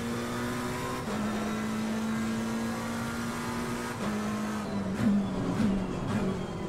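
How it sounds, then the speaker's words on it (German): A race car in Assetto Corsa Competizione drones steadily, then downshifts with blips and short bursts of engine sound near the end, fairly faint and without talk. "der Klang beim Unterschalten einfach herrlich"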